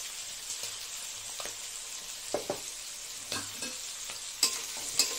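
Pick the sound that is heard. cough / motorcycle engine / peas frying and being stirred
peas frying and being stirred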